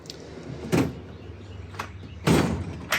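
Drawers on a packed 150-inch Snap-on EPIQ Series toolbox slide open and shut in two loud, brief rolling bursts a second and a half apart, with a softer clack between them, close and with no talking.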